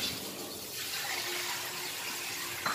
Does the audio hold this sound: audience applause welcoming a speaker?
no